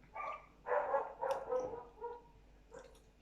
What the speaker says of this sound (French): C'est ma chienne qui aboie